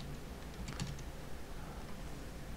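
Quiet, brief tapping on a computer keyboard, a short burst of keystrokes near the middle against faint background hiss, with no talking.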